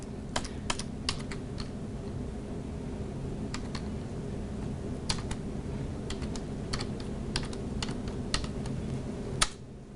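Keys on a computer keyboard are tapped while entering an equation in Microsoft Word, giving irregular bursts of crisp, close clicks across the whole stretch over a quiet background.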